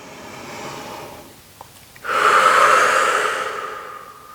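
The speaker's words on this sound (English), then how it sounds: "give yourself one more breath" A single deep breath during a yoga hamstring stretch, a soft inhale followed by a louder, longer airy exhale, close and alone.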